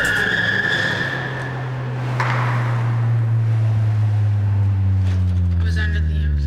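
A car pulls away at night for a test drive, its engine hum rising steadily in pitch as it accelerates, loud and close, with a brief tyre or road noise burst partway through.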